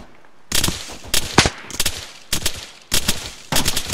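In a military video game, friendly gunfire comes in sharp, loud bursts of rapid rifle shots, about six clusters separated by short pauses, close and punchy with no voices over them.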